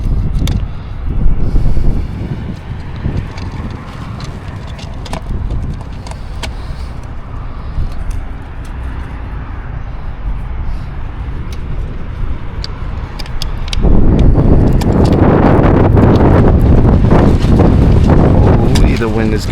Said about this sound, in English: the wind is going